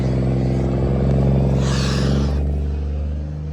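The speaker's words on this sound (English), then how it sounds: "There goes the truck." A loaded truck pulls away with a loud, steady diesel rumble that swells briefly as the engine revs harder, then eases off as it leaves. No one speaks.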